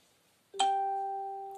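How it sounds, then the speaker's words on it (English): A phone in the background gives a single clear electronic chime that rings on, slowly fading, in an otherwise quiet room. "Excuse my phone going off in the background"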